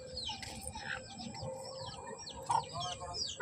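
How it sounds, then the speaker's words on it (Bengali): Chickens at a house cluck and chatter in short, overlapping calls with some brief rustling, near and moderately loud over a faint outdoor background. "এই বাসায় মুরগি আছে"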